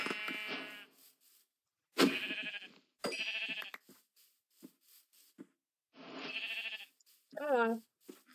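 Sheep in the video game Minecraft give several short, wavering bleats between a man's speech, one of them louder and clearly quavering near the end.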